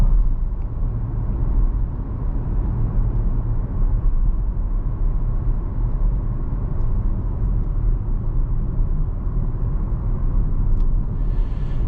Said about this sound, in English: You do get a little bit of noise from the tires, but there isn't a whole lot of wind noise